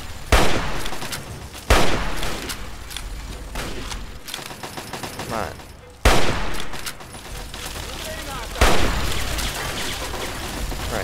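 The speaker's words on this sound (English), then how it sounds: "Take cover from that minigun." Heavy minigun fire in Fallout 3, sustained rattling bursts punctuated by several loud booming impacts, fairly close and dense across the whole stretch.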